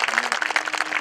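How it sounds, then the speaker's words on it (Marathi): Audience clapping for a musician accompanying a kirtan performance, a dense steady patter of many hands throughout, fairly close and even in level. "वादकासाठी एकदा जोरदार टाळ्या वाजवा."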